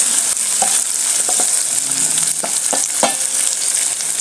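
Steady sizzling of onions frying in a pan, with a spoon scraping and stirring in irregular strokes throughout, close and fairly loud, no voices.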